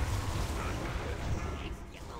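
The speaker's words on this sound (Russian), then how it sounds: "Так, взрыв, отбежали." An explosion goes off during a video game raid as a continuous loud, booming rumble with a dense low-end roar and a wash of noise, fading slightly toward the end.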